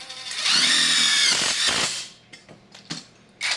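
An MTDTD-156 impact driver drives a self-tapping screw in one loud, close burst of whirring lasting about a second and a half, followed by a few sparse clicks and knocks.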